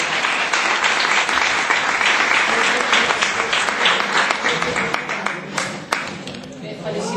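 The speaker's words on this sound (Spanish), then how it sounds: "Un aplaudiment per la Glòria Bosch." An audience applauds a poet at a poetry and theatre gathering, with steady close clapping throughout that tapers off slightly toward the end, and a few voices are faintly audible underneath.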